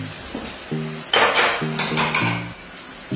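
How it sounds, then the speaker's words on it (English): Utensils scrape and clink against a pot as smoked chicken spaghetti ingredients with onion are stirred, a few close, moderately loud metallic strokes in short bursts. "And then you stir."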